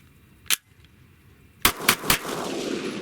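A Glock pistol loaded from an ETS polymer magazine fires one shot, then after a pause three quick shots, each a sharp crack with a ringing tail, at moderate distance.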